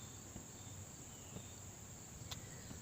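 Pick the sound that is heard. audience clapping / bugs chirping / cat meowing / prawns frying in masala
bugs chirping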